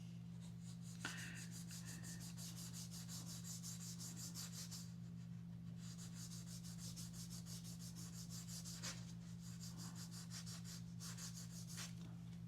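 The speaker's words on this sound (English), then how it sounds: "just kind of polishing" Steady close rubbing of a sanding block polishing a surface, a continuous dry scrubbing texture with brief pauses and strokes, over a constant low electrical hum.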